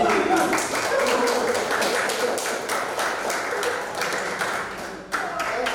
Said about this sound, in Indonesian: terima kasih tepuk tangan buat bapaknya Mas